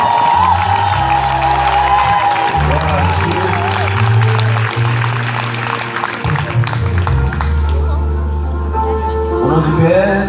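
A church retreat congregation applauding and cheering loudly, with sustained clapping over music.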